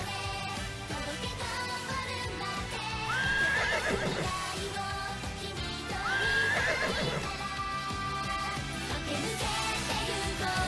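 A horse in the video game Bloodborne neighs twice, two rising whinnies about three seconds apart over a constant bed of game music and ambience, fairly close and with no talking.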